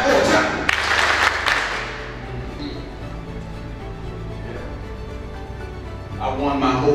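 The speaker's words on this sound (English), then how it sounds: "clap 4 times" An audience at a team welcome event claps four times in unison. The claps are loud, sharp bursts close together at the start, followed by a steady low background bed with faint voices.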